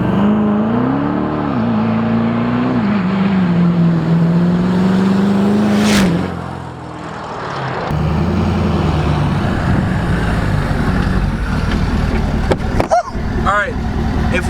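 A Ford 6.7 Powerstroke diesel truck with a stock engine and transmission, turbo and bigger fuel pump drives hard, its engine note climbing steadily then dropping, followed by loud road and engine roar.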